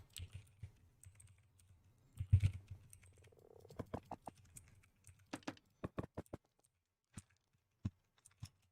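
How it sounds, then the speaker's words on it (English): A pet frog in a video game gives a few soft croaks among sparse, sharp keyboard and mouse clicks, all quiet and close, with long gaps of near silence between them. "excuse my pet frog. It's been following me around."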